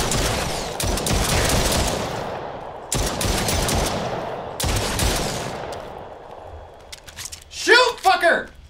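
Sustained automatic gunfire in the video game Trackher, loud and close, in three long bursts with short gaps between them. A brief burst of speech follows at the end.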